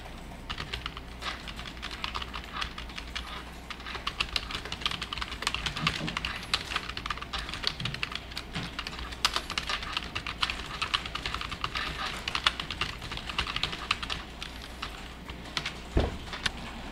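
Steady typing of Java code on a computer keyboard, a continuous patter of close, crisp key clicks with a low background hum throughout.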